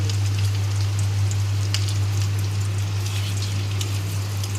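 Soybean chunks fry in white cooking oil with a dense, steady sizzle, crackling evenly throughout over a constant low hum.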